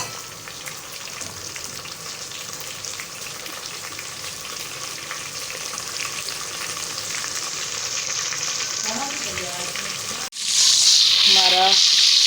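Chicken pieces and potatoes fry with onions in hot oil, giving a steady, loud sizzling hiss that surges sharply near the end, with a brief voice audible shortly before.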